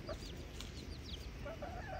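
Chickens cluck in short repeated calls at a farmyard picnic, with a steady hum of outdoor background noise under them and no talk.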